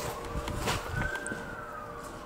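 A distant wailing fire engine siren rises slowly in pitch over background street noise, faint and sustained.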